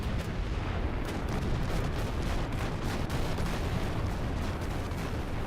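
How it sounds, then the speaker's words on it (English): Dense, continuous rumble of artillery fire in War Thunder, a steady wash of booms and blasts with no clear gaps, loud and close, and no voices. "All kinds of artillery coming down."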